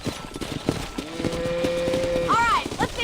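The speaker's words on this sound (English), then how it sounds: "Control that horse, will you?" Horses and cattle are herded on a ranch in Red Dead Redemption. Hooves clop and a horse whinnies briefly near the end, all under ongoing character dialogue.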